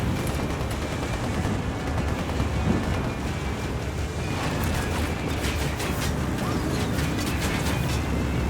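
Gunfire in a combat shooter video game, a dense continuous wash of shots, rumble and mechanical clatter with sharper bursts in the second half, loud and steady with no talk.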